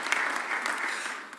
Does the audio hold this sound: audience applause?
yes